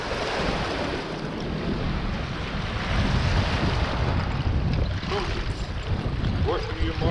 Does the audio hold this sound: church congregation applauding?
no